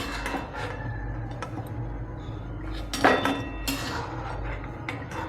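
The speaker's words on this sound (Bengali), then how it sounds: "আলুটা নামিয়ে নিচ্ছি" A pot of boiled potato pieces lifted off the stove in a home kitchen, with metallic clinks and clatter of cookware, including a sharper knock near the middle, over a steady low background hum.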